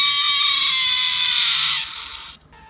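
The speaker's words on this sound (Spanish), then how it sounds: "es que es muy feo ese grito" A harsh, drawn-out electronic shriek from a Kenner Jurassic Park Series 1 electronic velociraptor toy, buzzy tone, loud and near, dropping away after nearly two seconds.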